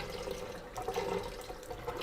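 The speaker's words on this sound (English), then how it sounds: "we're just going to add a couple tablespoons of water, slowly" Water trickles slowly from a spoon into a bowl of matcha icing sugar, a soft steady splashing that runs close and continuous for a couple of seconds.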